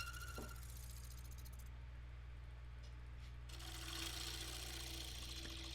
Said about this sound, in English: Now I'm going to use a shear scrape just to clean up that bottom edge.